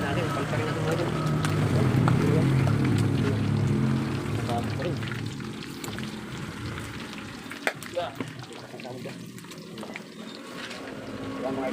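Pork lechon kawali crackling and sizzling in hot oil in a pan, a steady dense bubbling hiss that eases somewhat over time, with someone talking over it.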